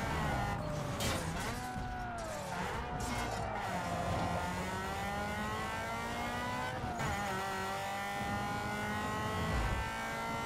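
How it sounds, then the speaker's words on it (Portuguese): A kart engine in the Need for Speed Underground 2 racing game drones and revs continuously, its pitch rising and falling through gear shifts over a steady roar of game racing sound. "Tô jogando com um kart num jogo de carro."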